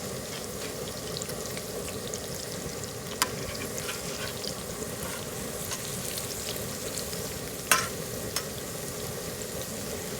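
Pork patties and French fries fry slowly in lard on a Southwest cooking disk, a steady broadband sizzle and crackle running throughout with a few sharp pops, no talking.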